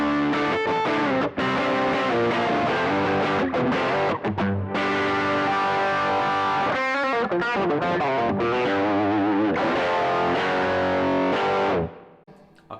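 Electric guitar played through a Marshall Origin 50 head with a JHS pedal: driven, distorted chords and riffs with a chorus-like shimmer, loud and continuous before fading out at the end.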